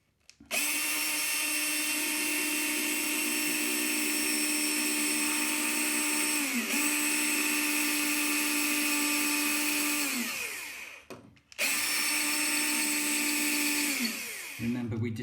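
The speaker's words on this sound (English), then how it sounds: "Remember not to have your drill on hammer" Power drill with the hammer setting off boring a hole while fitting WC plumbing, a loud steady whine that dips at around 7 s, stops near 11 s, then restarts and runs down at the end.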